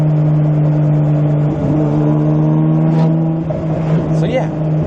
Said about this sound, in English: it just has the best blow-off valve noises.